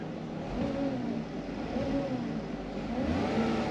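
A Ram Promaster van with a 62TE transmission and a Dorman transmission pan idles and revs in place, its engine drone swelling and easing in a steady, fairly loud hum with no talking.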